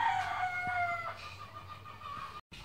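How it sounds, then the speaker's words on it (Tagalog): Chickens clucking and a rooster crowing in a busy yard, the calls overlapping continuously at close range, with a brief dropout near the end. "Maingay, ang daming manok dito."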